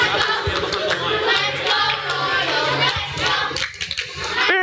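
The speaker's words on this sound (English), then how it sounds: "Very impressive cheering going on this side here." Crowd cheering at a youth Lego robotics scrimmage, a steady loud roar of voices with clapping and shouts filling the space, dropping briefly near the end.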